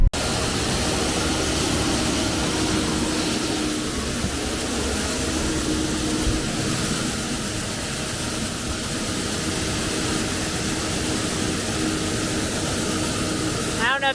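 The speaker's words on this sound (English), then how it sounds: "The combine's on. Throttle it up. And then I turn on the head." A combine harvester's engine roars in a corn field, a loud broadband mechanical drone that holds steady as it is throttled up and the header engaged, with a voice talking over it.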